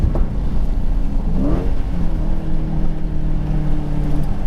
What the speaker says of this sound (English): You enjoy the sound of the pipes.